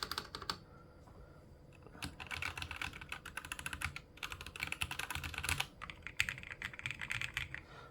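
Typing on an AULA Wind F68 mechanical keyboard, a brisk run of close, crisp key clacks in uneven bursts with brief pauses and a few heavier strokes, heard alone without voices.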